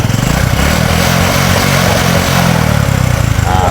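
A motorcycle engine, newly restarted after a spark plug repair, idles loudly and close by with a steady, rapid low-pitched putter that carries on without a break.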